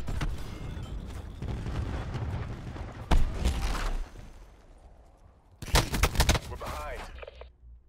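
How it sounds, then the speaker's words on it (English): Cluster grenade detonations in Call of Duty Black Ops 4, a series of loud booming blasts and crackling gunfire, with a sharp burst near the start and another dense explosive cluster toward the end, mixed with battle noise. "Throwing cluster grenade."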